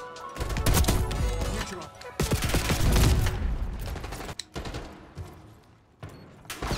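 Sniper gunfire in Black Ops 6 multiplayer, sharp loud shots and bursts of gunfire with echoing booms, close and irregular, alongside game sound effects and a player speaking.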